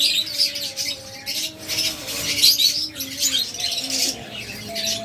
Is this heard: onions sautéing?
no